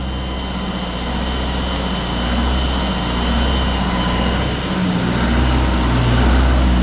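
An Onan 15.0 JC generator engine, freshly refurbished and with its muffler fitted, runs under load from a load bank, a loud steady low drone that swells and dips slowly as the governor hunts.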